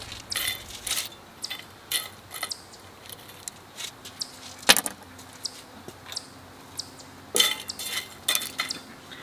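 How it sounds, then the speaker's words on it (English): Seashells are cracked and pushed around in a cast iron pan, giving scattered, irregular clinks and sharp brittle taps, close up and fairly quiet, with brief pauses between bursts and no talking. "Take some of these bigger ones and break them up a little bit more while this starts cooking down."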